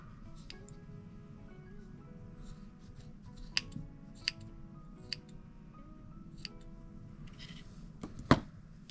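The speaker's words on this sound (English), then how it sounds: "go ahead and snip that off" Scissors snip off a yarn end on a crocheted newborn cat hat, giving a few sharp close clicks spaced a second or so apart, the last one loudest, over a low steady background hum.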